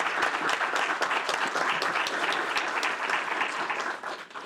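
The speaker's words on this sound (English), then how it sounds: "I believe we should applaud you" Applause breaks out at a city council meeting, a steady stretch of dense clapping from the chamber audience that carries through without talk and eases slightly at the end.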